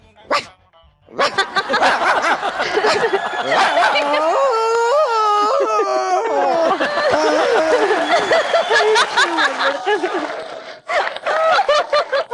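On a comedy show stage, a person imitates a big, strong dog's deep barking in a long, loud run of woofs, with bits of laughter around it.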